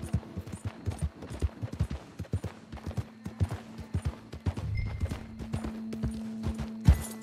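Horse hooves clip-clop in Red Dead Redemption 2, a steady rhythmic trot of sharp hoofbeats over a low hum, with a brief heavier thud near the end.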